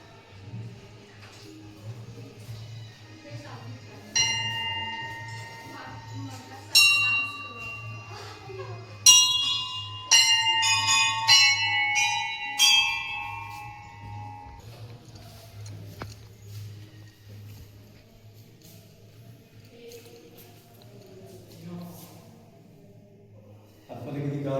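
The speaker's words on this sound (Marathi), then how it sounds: "ह्या घंटा वाजवा" A temple bell hung at a doorway in the Konkan region is struck repeatedly, giving a run of bright ringing clangs with decaying tones, while people talk and move nearby and a low hum continues underneath.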